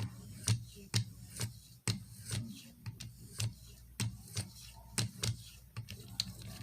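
A Benchmade 13940 knife is drawn across a Venev OCB stone in light, evenly spaced strokes, each a short, soft scrape close by.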